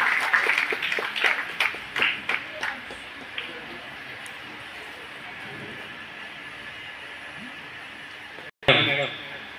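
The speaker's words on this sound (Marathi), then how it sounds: "टाळ्यांचा जोरजोरात आवाज झाला पाहिजे" Audience at a Diwali welcome ceremony honouring sanitation workers clapping in scattered bursts that fade into a quieter background with speech, followed by a sudden loud burst near the end.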